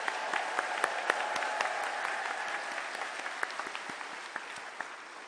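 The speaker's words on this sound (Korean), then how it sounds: "우리 이만희 총회장님께도 다시 한번 큰 박수 부탁드리겠습니다" Large congregation at a church assembly giving a big round of applause, a sustained, even roar of many hands clapping with sharp individual claps standing out, heard from a distance and slowly easing off.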